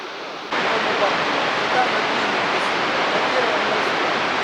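Iguaçu Falls waterfall on the Brazil–Argentina border roaring as a steady, loud, broadband wash of water, continuous and close, with no pauses through the clip.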